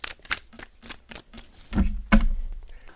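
A tarot card deck shuffled by hand in a quiet room, a run of soft papery riffles followed by two louder, fuller shuffles near the end, with no voices.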